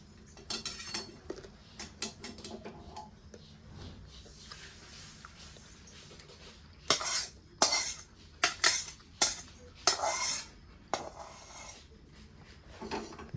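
A metal spoon scrapes and clinks against a pan in quick irregular bursts as roasted semolina is transferred onto a plate, fairly close, with quieter pauses in between.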